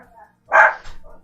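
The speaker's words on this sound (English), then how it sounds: "sorry about my dogs" A dog gives a single short, loud bark close to the microphone, with faint yips before and after it in an indoor room.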